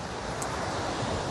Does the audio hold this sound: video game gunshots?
no